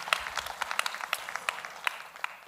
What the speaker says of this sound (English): Can you give yourself a round of applause?